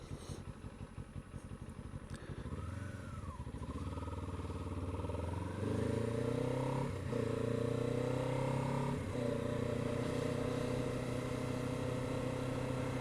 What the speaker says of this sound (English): Now in sport mode the engine runs all the time